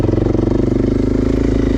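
A Suzuki DRZ400 dirt bike with an airbox mod and full exhaust system rides past close by, its engine a loud, steady, throbbing drone that holds through the clip.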